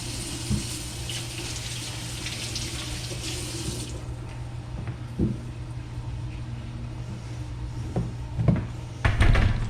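Tap water runs steadily into a sink while food is washed, then stops, followed by a few clunks and knocks near the end.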